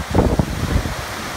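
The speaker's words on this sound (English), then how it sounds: "The wind is just screaming through here." Strong storm wind roars across a balcony, a loud, close, continuous rush buffeting the microphone with gusty surges and no talking.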